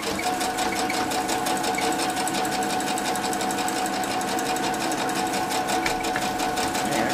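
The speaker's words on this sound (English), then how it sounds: "I'm going to keep sewing from one block to the next with a little bit of thread in between" A sewing machine stitching a continuous seam across quilt blocks, a loud, close, steady rapid mechanical chatter that runs without a break throughout.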